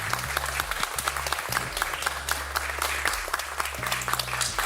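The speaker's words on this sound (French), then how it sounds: "On peut l'applaudir, hein." Applause from an assembly congratulating a newly elected regional president, an even wash of clapping held throughout at moderate level, with a low sustained tonal hum running beneath it.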